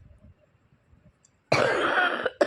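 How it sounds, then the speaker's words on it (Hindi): After a near-silent pause, a single loud, harsh cough bursts out close by from a woman still unwell, followed by a brief catch of breath. "देखो खांसी तो अभी भी मेरे को है"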